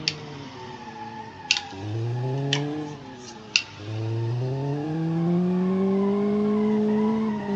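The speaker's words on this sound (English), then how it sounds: "this is a section made for drifting, not for autocross" A car in the BeamNG driving game drifts with its engine revving up and down, whining tonal tire squeal and a few sharp clicks, loud and close with no talk.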